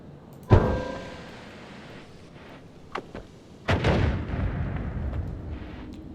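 A bomb goes off in the pixel-physics game Noita, with two sharp blasts about three seconds apart, the second followed by a long rumbling, crackling tail, all fairly close and without talk.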